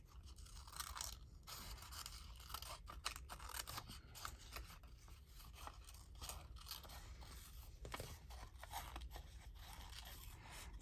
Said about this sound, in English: Grab my scissors.